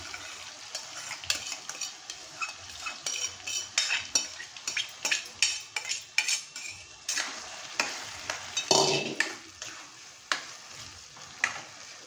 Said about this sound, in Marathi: आता आपण जे सोयाबीन मॅरिनेट करून ठेवले होते ते आपल्याला इथे ॲड करायचे आहेत